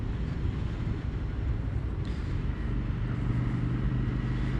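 An Indian Scout motorcycle cruises at speed, its engine drone steady beneath heavy rushing wind buffeting the microphone, loud and unbroken for the whole stretch.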